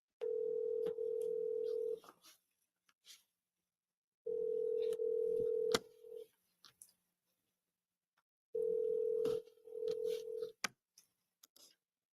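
Telephone call audio from outbound calls to home sellers: three long steady dial-tone-like ringback tones, each about two seconds, separated by pauses, fairly quiet with faint clicks between them.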